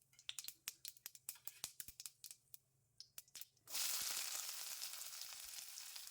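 Finely chopped onions drop into hot oil already crackling with mustard and cumin seeds: sharp knocks and pops first, then a sudden loud, steady sizzle that carries on close by.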